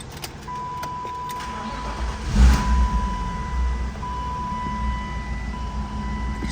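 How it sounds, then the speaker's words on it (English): A BMW E36 car engine cranks and starts close by, with a brief loud surge at startup before settling into a steady smooth idle hum, a faint high whine running throughout and no talking. "Let's turn on the car and give you a few revs, show you how clean it sounds."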